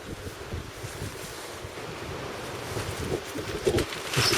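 Strong wind gusting at an outdoor winter camp, a rushing, buffeting roar battering the microphone and swelling louder toward the end, with no voices.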